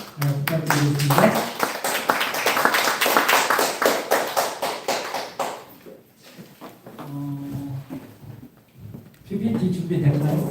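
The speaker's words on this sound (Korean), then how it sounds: "큰 박수 부탁드리겠습니다" Clapping from a church mission-society audience welcoming a pastor to lecture at a disciple-vision workshop, a dense burst of hand claps lasting several seconds between stretches of talk, with voices before and after.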